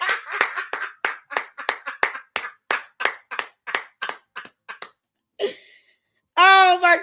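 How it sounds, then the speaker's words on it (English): A single pair of hands claps in a quick, uneven run of about twenty sharp, close claps, then stops, followed by a brief exclamation and a voice speaking. "Y'all give Edie Marie a hand clap of praise up in here."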